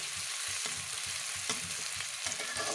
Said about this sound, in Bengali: পেঁয়াজটা দিয়ে একটু হালকা বাদামি করে ভেজে নেব